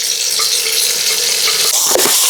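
Masala for crab curry frying and being stirred in a pan, a steady loud sizzle with scraping stir sounds running throughout, no talking.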